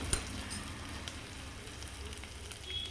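Chopped shallots sautéing in a pan for drumstick leaf kootu, a soft continuous sizzle with a few faint stirring clicks, quiet and close.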